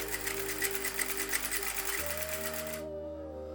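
A sewing machine stitches cloth in a steady, rapid whirring rattle with a low motor hum, running close and continuous, shifting pitch briefly before the stitching stops and only the motor hum remains.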